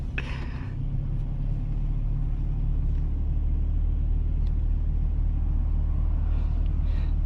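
A white Ford Mustang's engine at a loud car meet holds a deep, steady rumbling drone nearby, continuous and low after a brief, brighter noise at the start.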